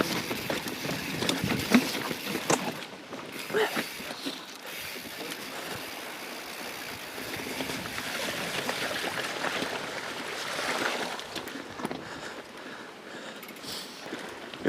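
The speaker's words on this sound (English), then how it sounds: "Good thing the creek is nice and shallow." Mountain bike splashing through a shallow creek on a fast, chunky trail at Green's Creek, with continuous rushing water and rattling over nearby rocks for about fifteen seconds and no talking.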